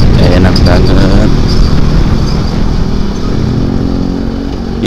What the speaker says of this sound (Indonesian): Ini gue masih pakai knalpot standar, belum gue ganti racing.